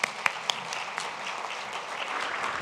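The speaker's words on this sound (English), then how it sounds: "Let's have a round of applause for our speakers." At a fireside chat on New Jersey's economy, the audience claps for the speakers, a few sharp early claps followed by a moderate, even patter of applause from a medium-sized crowd.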